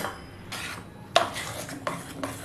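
A spoon stirs a jaggery and milk batter in a bowl, giving soft scraping sounds with a few sharp clinks against the rim, close and quiet, with no talking.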